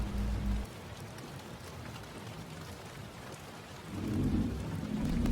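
Steady rain pouring with heavy thunder rumbles, a deep roll fading early then building again toward the end, constant hiss of rainfall throughout with no voices.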